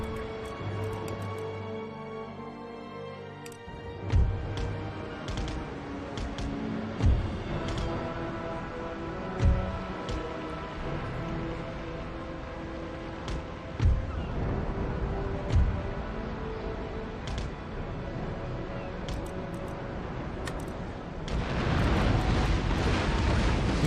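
Broadside cannon fire from warships in a naval battle in Empire: Total War, several deep booms at a steady interval of a few seconds over a low rumbling battle bed, with a heavier roar building at the end.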